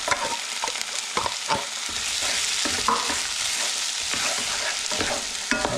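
Tinned tomatoes stirred around in a hot pan, with a continuous sizzle broken by irregular spoon scrapes and knocks, close and fairly loud.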